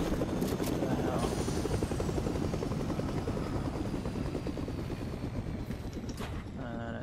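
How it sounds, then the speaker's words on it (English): Helicopter arriving in the Fortnite video game, a loud, steady rotor thrum with rapid beating blades that runs unbroken from start to finish and stays close. "It sounds like somebody just came here with a helicopter is from what I can hear on my headset."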